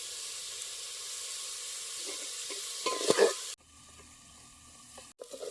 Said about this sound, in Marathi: आपण टोमॅटो हे जरा करपटवून घेणार आहे